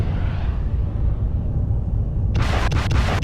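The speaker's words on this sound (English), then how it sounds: "why don't we watch from down here and watch the weapons fire up here" Weapons fire and explosions in the Mechwarrior Living Legends game: a steady low rumble of distant battle, then a loud burst of sharp blasts and booms near the end.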